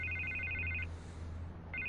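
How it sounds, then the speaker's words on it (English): A telephone rings inside the Telltale Batman video game: a bright electronic double-trill burst, a pause of about a second, then the ring starting again, over a low steady hum, with no talking. "I can't get the phone to stop ringing."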